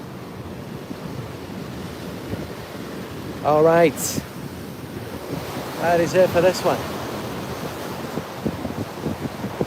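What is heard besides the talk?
sea waves and wind at the seaside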